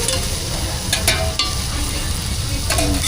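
An omelette sizzles in oil with masala and salt on a griddle at a Hassan food court stall, steady frying hiss with a few metallic scraping clinks of a spatula, close and continuous.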